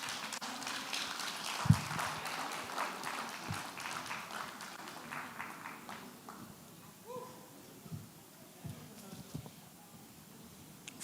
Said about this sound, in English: Please, a round of applause for her one more time.